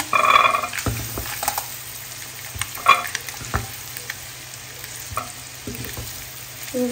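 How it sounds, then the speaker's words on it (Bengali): Eggs frying in oil in a pan with turmeric and salt, a steady close sizzle broken by scraping stirs and a few sharp utensil clinks, no voices. "এখানে ডিম ভাজি করে ফেলছি লাল টুকটুকে।"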